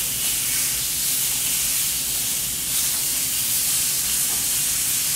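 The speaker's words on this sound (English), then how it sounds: "So we get a nice little sear on the outside of all these pieces of meat." Pieces of meat searing in a hot pan give a steady, loud sizzle and hiss that runs without a break and with no voices.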